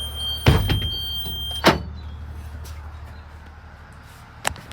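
A heavy bus door slams shut with a loud thud, followed by a second clunk and a faint later knock against a low idling hum.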